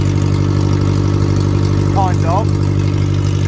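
A 1998 Suzuki Vitara engine runs with no exhaust fitted, a loud, steady, rough drone at close range throughout, while someone speaks briefly over it.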